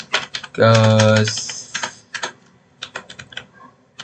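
Keyboard typing while writing HTML input code, with light irregular key clicks scattered throughout, interrupted early by a short burst of sustained tonal sound.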